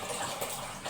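Water rushes steadily while something fills in a home during household chores, a short continuous gush up close with no voices.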